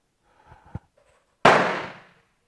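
A single loud rifle shot from a Danish Rolling Block 11.7 caliber rifle during load development, a sharp blast with a long decaying roll of echo, preceded by faint handling clicks.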